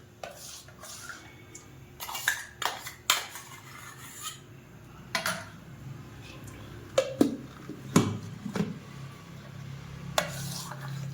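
A utensil scrapes and knocks against a metal pot in irregular strokes while stirring kadhi with raw ground masala paste, close by, with scattered clinks and a quiet background hum.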